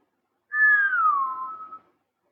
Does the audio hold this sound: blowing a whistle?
yes